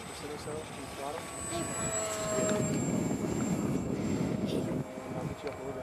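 A radio-controlled model airplane flying outdoors, its engine throttled down to about half, gives a steady high droning buzz with a faint whine over constant background wash, while someone talks over it.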